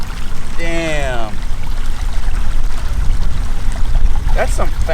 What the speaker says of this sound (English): That's some fast flowing water, dude.